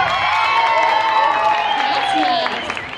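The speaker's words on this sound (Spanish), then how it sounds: "Un aplauso, ¿no?" An audience at a comic convention in Mexico claps and cheers for a guest on stage, a dense burst of applause with high whoops and shouts that fades slightly toward the end.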